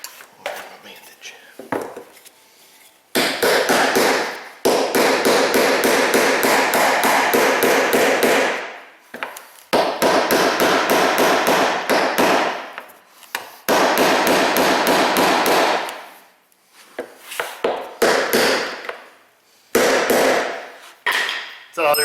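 Metal-on-metal hammer blows knocking a part into place on a Chevrolet Malibu during a gas gauge repair, delivered in fast repeated bursts of sharp loud strikes separated by short pauses.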